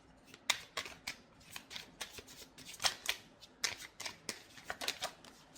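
Tarot cards being shuffled by hand, a close, crisp sequence of rapid riffles and slaps in a steady rhythm, with no talk over them.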